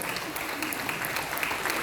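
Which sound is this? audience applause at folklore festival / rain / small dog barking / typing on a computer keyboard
audience applause at folklore festival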